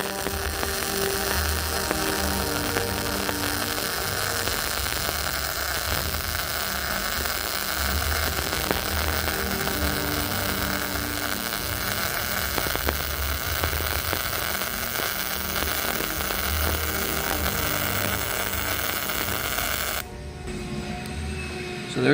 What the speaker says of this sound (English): so I gotta weld quickly.